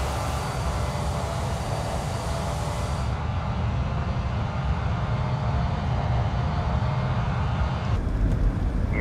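In Microsoft Flight Simulator, a loud, steady rumbling roar of Embraer 190 airliner engines and wind noise continues throughout, with a faint mechanical shift partway through as the landing gear extends.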